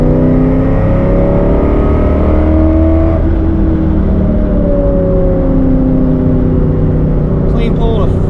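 A Ford SN95 Mustang engine pulls hard from about 3,500 to 5,000 rpm, a loud, steady rising drone heard from inside the car, with a voice talking over it.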